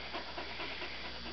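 A worked-up puppy pants rapidly and steadily, with fast rhythmic breaths heard close and fairly soft, with no other sound.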